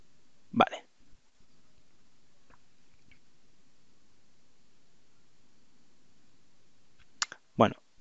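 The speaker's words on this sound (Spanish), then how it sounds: "hacemos clic en finalizar" Computer mouse clicks while finishing a sync setup in Microsoft 365, a sharp click near the start and a quick pair near the end, close and fairly loud over quiet background hiss.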